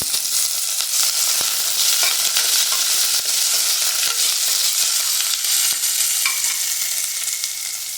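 Mustard seeds, cumin and onion frying in oil for a ridge gourd palya, a loud, unbroken close-up sizzle with occasional faint spoon scrapes and no talking.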